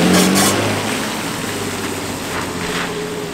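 Infiniti G35 exhaust after a drone-free exhaust install, giving a deep, fairly steady rumble that swells at the start and settles into a low, continuous note, close and alone without any talking.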